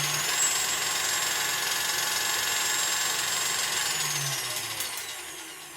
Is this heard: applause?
no